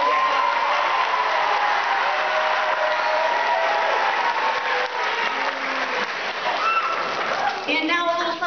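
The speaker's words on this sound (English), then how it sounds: "if you could give her another round of applause" A crowd claps steadily in a dense wash of applause for a performer at a short musical with boys' choirs, continuing throughout, loud and sustained.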